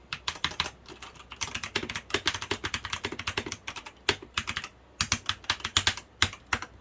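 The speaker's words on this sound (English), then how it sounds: "this one just with the foaming and the Gatoron browns, which have been lubed, the standard lubing. This is what it sounds like." Rapid typing on an E-Yooso TKL mechanical keyboard with foam dampening and lubed Gateron brown switches, a steady close patter of keystrokes in quick bursts with a few brief pauses, no talking.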